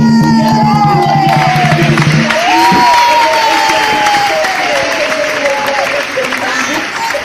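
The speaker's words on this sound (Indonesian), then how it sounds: "Bapak Ibu boleh tepuk tangan sekali lagi." Audience applause at an outdoor barongsai lion dance show in an old town quarter, a steady dense clapping wash with crowd noise and a voice calling out over it.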